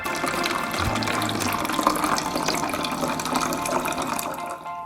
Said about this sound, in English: let's fill this up with water so it looks normal